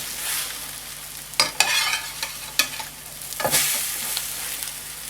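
An egg omelette sizzles steadily in a pan, with a few sharp scraping and flipping knocks of a utensil against the pan over the constant frying hiss, close and clear with no talking.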